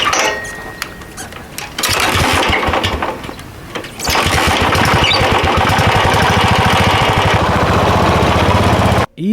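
A motorcycle engine runs on a mountain ride in the Spiti Valley of the Himalayas, loud and close, dropping briefly before surging back into a sustained buzzing roar that cuts off at the end.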